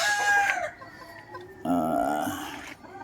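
Four-month-old chickens cluck and call close by, with a young cockerel's drawn-out crowing in the second half.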